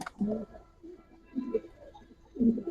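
Kalpetri and Giribaz pigeons coo in soft, low, rolling calls, three short bursts spread across a few seconds, close by, with faint speech mixed in.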